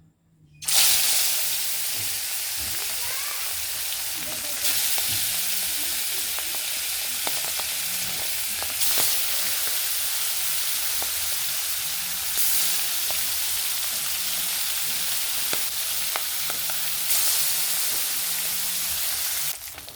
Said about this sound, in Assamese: এতিয়া মই মাছখিনি নিমখ হালধি সানি ফ্ৰাই কৰি ল'ম।